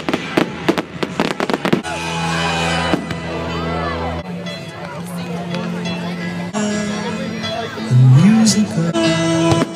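Fireworks exploding at an October half-term night display, with repeated loud bangs, crackles and whistling bursts while children chatter and exclaim close by.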